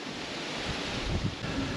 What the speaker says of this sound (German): Wenn ich vorher nicht vom Wind weggeweht werde.